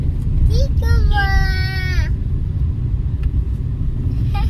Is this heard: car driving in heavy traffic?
yes